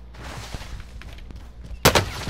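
Gunfire in a shooter video game: a few distant, sharp shots crack over quiet background noise, and a louder burst lands near the end.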